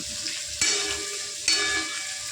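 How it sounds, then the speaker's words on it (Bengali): Potatoes stir-fried with spices in a pan while cooking a cauliflower and rohu fish curry, giving a steady close sizzle with two sharp scraping stirs, alone without talk. "এই দেখুন আলুটা দিয়ে ভালো করে মামনি মশলার সাথে কষিয়ে নিল"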